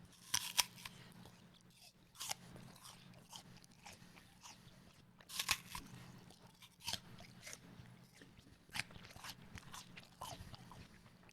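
A KiKu apple is bitten and chewed up close, with crisp crunching bites spaced irregularly and wet, juicy chewing between them in a quiet setting, no voice.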